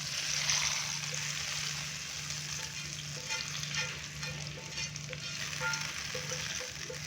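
Hot cumin tempering poured onto Kashmiri dal sizzles and crackles in a steady close fry that keeps going with light bubbling, and no one speaks.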